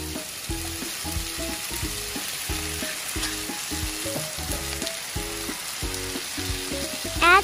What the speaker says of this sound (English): Add green chilies. Add tomatoes.